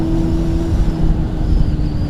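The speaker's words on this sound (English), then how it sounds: "I do love the sound of the bike going through that tunnel" A Honda Hornet motorcycle riding through a tunnel, its engine a loud, steady droning roar that fills the whole moment without pause.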